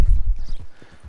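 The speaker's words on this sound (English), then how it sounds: "My horse is hungry." Horse hooves clip-clop in the Red Dead Redemption 2 video game, a quick run of muffled thuds at a steady walking rhythm, loud at first and fading slightly over the second.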